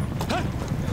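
A herd of horses driven by cowboys on a ranch, hooves clip-clopping close and loud in a quick irregular patter over a brief moment, with a faint whinny.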